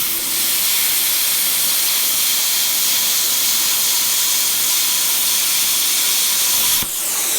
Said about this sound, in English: As soon as I pull that trigger, let's go ahead and watch. We'll cut right through this steel like butter.